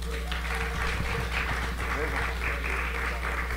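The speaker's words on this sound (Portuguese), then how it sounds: "salva de palmas, por favor" A literary gathering audience applauds author Luiz Rufato, giving a continuous, moderately loud patter of many hands clapping together, with voices mixed in beneath the applause.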